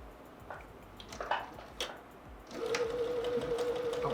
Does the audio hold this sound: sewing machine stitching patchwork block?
yes